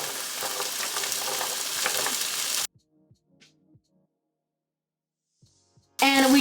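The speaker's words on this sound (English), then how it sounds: "Now I'm gonna slowly be adding my chickpea and beans." Chickpeas and beans frying in a pan, a loud close sizzle for a few seconds that cuts to near silence, then the sizzle returns briefly at the end.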